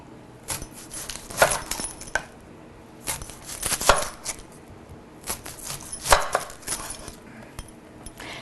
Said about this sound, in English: Now I'm going to do a quick cut on a Vidalia.